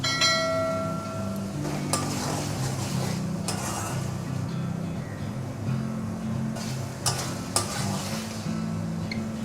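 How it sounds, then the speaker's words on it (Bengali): Spice paste for a Bangladeshi rui fish head curry sizzles in a pan over medium heat while a spoon stirs and scrapes it, with occasional metallic clinks against the pan. "মশলাটা যখন কষাবে, মিডিয়াম আঁচে কষাবে, নাহলে মশলাটা পুড়ে যাবে।"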